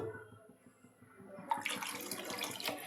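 Water is poured into a pot of pea kurma after a quiet stretch, a steady splashing rush that starts abruptly and keeps going close by, with no talking.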